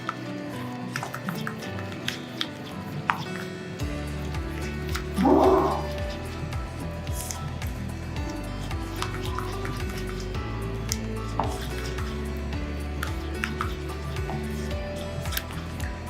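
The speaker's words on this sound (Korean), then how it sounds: "이제 주걱으로 저어서 잘 섞이도록 저어줍니다" A spatula stirs a sugar mixture in a bowl while sticky, wet scraping and squishing sounds repeat steadily under a continuous low hum, with a brief louder smear near the middle.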